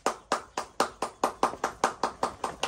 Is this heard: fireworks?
no